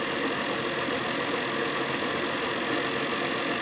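Steady broadband whirring and hum from an Adams motor generator with coil set, running up in speed, continuous and fairly loud with a constant mechanical drone and no voices.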